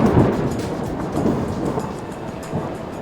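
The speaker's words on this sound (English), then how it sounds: "With claps of thunder exploding in the background" Thunder rumbles and booms through a thunderstorm over an abandoned rugby match, with rain hissing steadily underneath; several broad, loud rolls swell and fade across the span without voices.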